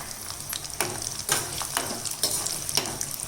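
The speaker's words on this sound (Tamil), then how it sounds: "இப்போ எண்ணெய் காஞ்சிடுச்சு. கடுகு சேர்த்துக்கலாம். இது பொரிய ஆரம்பிச்சிருச்சு." Mustard seeds with urad dal, chana dal and peanuts splutter in hot oil in a kitchen pan, a steady close crackle and hiss with sharp pops scattered throughout.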